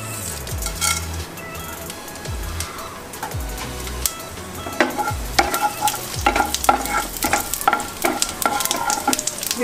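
Whole garam masala spices sizzling in hot oil in a kadhai, a bright crackling sizzle punctuated by repeated metallic clinks and scrapes of a spoon stirring, growing busier toward the end, with no speech.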